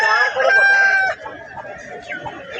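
A red jhinjira-coloured rooster, about a year old and roughly 3.5 to 4 kg, crows loudly and close by at a Balarampur poultry market for about a second. Quieter market bustle and voices follow.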